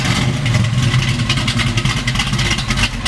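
A 1969 Chevrolet Nova engine running close by, a continuous loud rumble with rapid clattering pulses and slight rises in revs, no voices over it.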